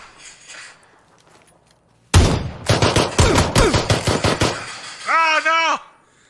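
Friendly gunfire from a teammate in a video game: after near-silence, a sudden loud burst of rapid automatic shots cracks close by, followed by a brief wavering electronic tone.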